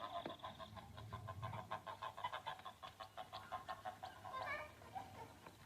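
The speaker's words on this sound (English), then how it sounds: "I'll introduce myself to the chicken." A farm chicken clucks in a steady rapid run of short notes, moderately close, with a voice faintly present in the background.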